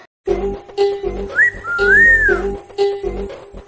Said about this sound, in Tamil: வரவன் போறவன்லாம் விசில் அடிச்சு கூப்பிடுறானே